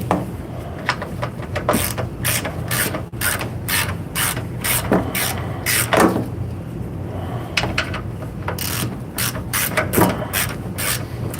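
Hand ratchet tools working stiff bolts loose during a DIY speed repair, a loud, continuous series of rapid clicking ratchet strokes in repeated bursts, close up and alone.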